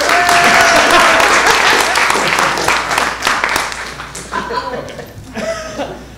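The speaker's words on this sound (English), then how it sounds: "Let's give an applause to everyone who's at" A town hall audience bursts into loud, dense clapping that gradually thins out, with scattered chuckles and some talk mixed in near the end.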